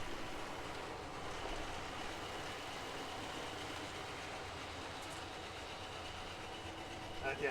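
Model railway trains run around a layout loop, giving a quiet continuous rumble and faint rail clatter that holds steady throughout, with a few light clicks near the end.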